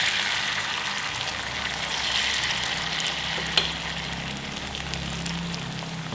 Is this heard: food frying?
yes